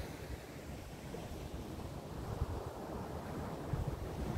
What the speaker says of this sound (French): je vous laisse le bruit des vagues, hein